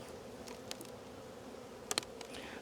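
Honey bees drone in a faint, steady buzz during an early-spring inspection of a strong hive, with a couple of brief clicks and knocks from the hive frames.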